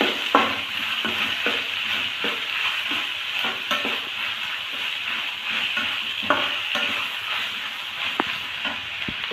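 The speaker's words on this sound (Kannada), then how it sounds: "ಇದನ್ನು ಸ್ವಲ್ಪ ಫ್ರೈ ಮಾಡ್ಕೊಳ್ಳೋಣ ಆಯಿಲಲ್ಲಿ ಚೆನ್ನಾಗಿ" Potatoes fry in hot oil in a pan for a moegg masala dish, giving a steady sizzle with a spatula scraping and stirring at irregular intervals, close and with no talk.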